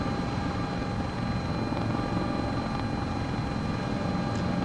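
A CowanSim helicopter in Microsoft Flight Simulator 2024 drones steadily with rotor thrum and turbine whine, a constant loud cockpit hum through the whole stretch without any voices.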